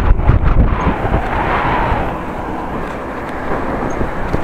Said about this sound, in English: straight into the wind